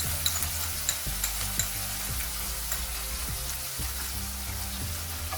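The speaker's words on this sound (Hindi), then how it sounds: "अभी हम इसमें मसाले का पेस्ट ऐड करेंगे" Spice paste sizzles in a pan of golden-fried onions for a coconut fish curry, with a loud, continuous frying hiss broken by regular spoon scrapes and stirring knocks.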